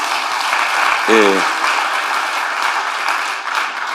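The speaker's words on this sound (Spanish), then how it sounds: "Denle un aplauso al Rey bendito." Applause from a church congregation fills the room steadily at moderate level, with a short burst of a voice cutting in briefly near the start.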